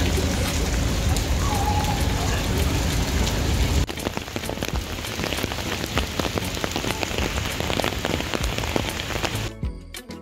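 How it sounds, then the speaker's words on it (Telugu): Rain pours steadily onto a Paris street, a dense continuous hiss that eases slightly after a few seconds, with no talking. "ఈ వర్షం ఎప్పుడు ఆగిపోతుంది?"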